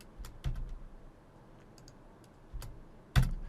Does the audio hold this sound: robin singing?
no